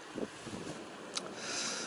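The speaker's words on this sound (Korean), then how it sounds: "바람이 불고 들이닥치니까 다행히 비는 안 맞는데요" Wind blowing at a freshwater crucian carp fishing spot on a gloomy day, a low, steady rumble of gusts buffeting the microphone, with a few faint bumps and a brief sharp rustle.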